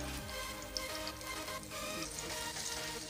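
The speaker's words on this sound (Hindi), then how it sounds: "अब इसको भूनते हैं 2 मिनट के लिए" Peas with a paste of green chilies and tomatoes frying in oil, giving a steady close sizzle and crackle with no talk.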